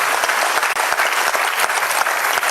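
A crowd applauds at a Hindi poetry recital, with dense, loud, sustained clapping from a large audience throughout.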